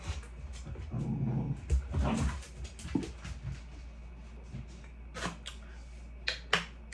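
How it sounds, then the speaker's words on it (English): Dogs playing indoors, with scattered snaps, short growls and thumps of scuffling bursting out irregularly at close range, busiest early on and then coming in sparse, loud clicks and yelps. "Don't mind that, my dogs are playing."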